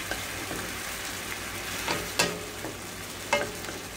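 Beef broth simmering in a pan for beef igado, a soft steady bubbling hiss broken by a few light scrapes and taps of stirring, fairly quiet and close with no voices.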